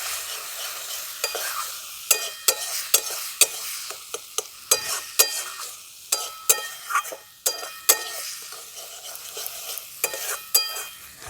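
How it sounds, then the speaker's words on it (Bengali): Soaked mung dal frying with spices in a pan, with a steady sizzle broken by repeated sharp scrapes and clinks of a spoon stirring against the metal. "এরপর আমি মুগ ডালটা খুব ভালো করে ভেজে নেবো আবার মশলাগুলোর সঙ্গে।"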